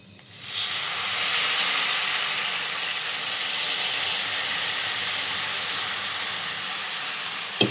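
Tamarind juice, spiced with cumin and fenugreek powder, boils in a pot, giving a steady, loud hiss that swells in after a quiet start and holds evenly to the end.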